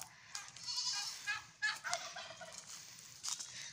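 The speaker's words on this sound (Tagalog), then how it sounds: "May pabo pa nga." A turkey gobbles in rapid warbling bursts, close by on a Philippine provincial goat farm, with a few other farmyard calls mixed in and no speech.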